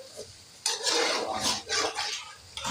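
Metal spoon scraping and clanking in a pot while chili, turmeric and coriander powder are stirred together, a few close scrapes and knocks at moderate volume.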